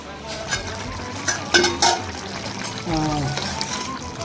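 Eggplant and egg curry simmering in a pan, a steady close bubbling sizzle with light stirring and a few sharper clinks, no talk.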